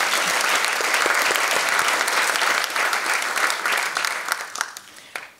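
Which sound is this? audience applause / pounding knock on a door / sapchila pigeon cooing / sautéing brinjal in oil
audience applause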